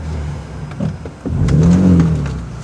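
A 2023 Ford Ranger Raptor engine revs from inside the cabin, a brief blip followed by a louder, sustained rising and falling rev with a steady mid-pitched engine tone, close and prominent with no talk.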